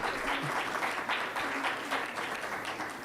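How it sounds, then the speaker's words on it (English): Applause from a conference audience at a nuclear energy summit, a fairly soft, even patter of many hands that rises and dips slightly, with some voices in the room beneath it. "A round of applause to him, please."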